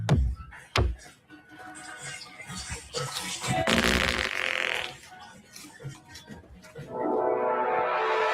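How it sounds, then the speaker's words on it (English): A brief, low flatulent burst of a fart rises amid a noisy indoor scene, with people talking around it. "Did you hear that? Is that a fart?"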